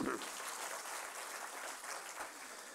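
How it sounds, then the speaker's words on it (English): Steady crowd applause fills the stretch, a dense wash of clapping that holds at an even level throughout without any clear pauses. "So let's give her a round of applause."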